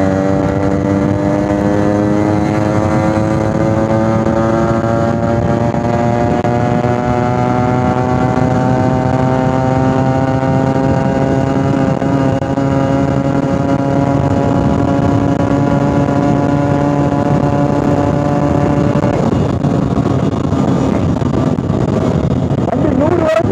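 A fully restored 1987 Yamaha RX100 motorcycle engine revs loud and close while riding, its pitch climbing steadily under acceleration for about twenty seconds before dropping off as the throttle eases.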